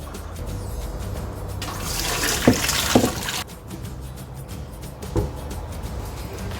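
Boiled noodles for veg Hakka noodles being strained, hot water pouring and draining in a steady gush that swells for a couple of seconds, with small clinks of a utensil.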